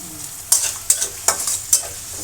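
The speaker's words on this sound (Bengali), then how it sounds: "রসুনটা একটু ভাজা হবে" Garlic paste frying in a pan, heard as a close, hissing sizzle broken by four sharp stirring scrapes at a steady rhythm, with no voices.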